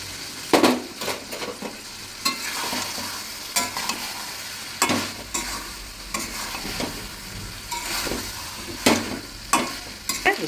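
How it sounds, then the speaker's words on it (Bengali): A spoon stirs cornflour slurry into chilli chicken in a pan, a low sizzle running underneath and sharp scrapes and clinks of utensil on metal landing every second or so, with no voices. "এবারে এটা একটু ঘন করার জন্যে একটুখানি কর্নফ্লোর গুলে"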